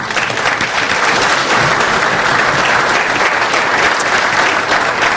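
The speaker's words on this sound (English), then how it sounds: "Give them a round of applause." At a chamber of commerce breakfast, a room full of attendees gives the Fidelity Bank team a round of applause, a loud, even, sustained clatter of many hands with no break.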